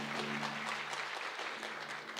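Audience at a sister cities signing ceremony applauding, a brief, fairly faint burst of scattered clapping heard from across the room.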